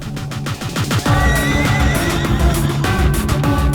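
A horse named in an Indian film scene gives a loud, close neigh that rises and wavers, with hooves clopping underneath and no talk over it.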